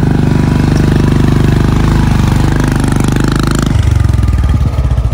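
A motorcycle engine labours up a rough village road, loud and close, with a steady throbbing that shifts to a lower, choppier pulse partway through.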